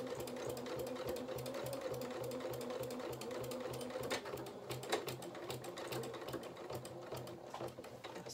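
A domestic sewing machine stitching through a dress skirt runs steadily with a rapid mechanical whirr and clatter, faint and close, with no talking.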